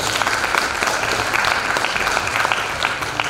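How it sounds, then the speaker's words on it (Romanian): An audience applauds an institution at a ceremonial event, sustained dense clapping that stays loud and even throughout. "Cred că putem să aplaudăm pentru această instituție."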